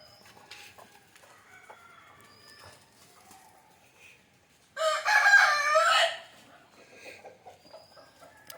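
A native country rooster in a village yard gives one loud crow lasting about a second, with faint scattered clucks and chirps from the hens before and after.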